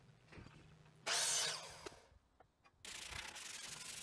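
Sandpaper rubbed by hand along the sharp planed edges of timber pieces, two bursts of close, harsh scratchy rasping separated by a quiet pause with small knocks.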